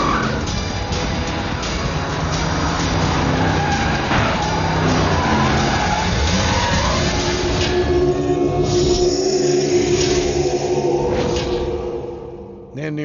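A car screeches its tires in a loud skid as it speeds off, amid engine noise and dramatic movie scene sound, with voices heard briefly.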